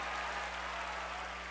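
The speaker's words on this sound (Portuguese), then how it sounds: "Vamos aplaudir o Senhor." Congregation clapping during an evening Baptist church service, a dense, steady wash of hands at a distance, fairly faint and continuous with a low hum underneath.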